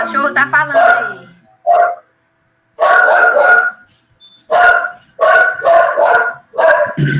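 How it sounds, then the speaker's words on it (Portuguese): A dog barks close by in loud bursts, with a quick string of yips at the start followed by several clusters of sharp barks separated by short pauses. "O cachorro tá falando aí."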